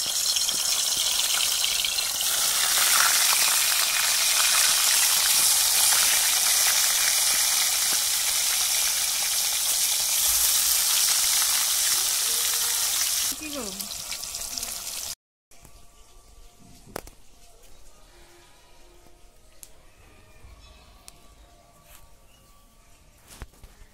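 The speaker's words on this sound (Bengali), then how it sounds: "তেল গরম হয়ে গেছে আমি এবার মাছটাকে ভেজে নিচ্ছি" Fish sizzling loudly in hot oil, a dense steady frying hiss for about thirteen seconds before it drops away into quieter kitchen sounds with faint clinks.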